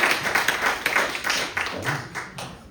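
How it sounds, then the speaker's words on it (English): Audience applause at an album release concert at the Four Walls venue: a dense, steady wash of many hands clapping close by, holding at an even level for the whole stretch. "So give a warm applause"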